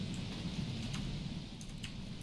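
Steady rainfall fills the Don't Starve game world with low thunder rumbling under it and a few faint clicks on top, continuous and without speech.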